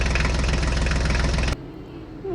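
A mini tractor engine runs with a loud, steady rumbling chug for about a second and a half, then cuts off sharply into quiet.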